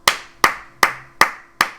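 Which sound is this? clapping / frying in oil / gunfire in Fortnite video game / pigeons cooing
clapping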